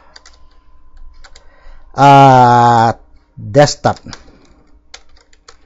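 Someone types on a computer keyboard in Notepad, producing sparse, close key clicks that continue under and between stretches of speech.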